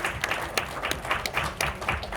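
A crowd applauds steadily, a dense wash of clapping with a few sharper claps standing out, continuing for the whole stretch.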